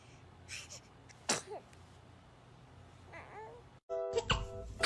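A baby sneezing: a sharp, tiny sneeze around the middle, mixed with small baby vocal sounds and soft babbling, followed by a brief silence and a louder burst of sound at the end, heard fairly close.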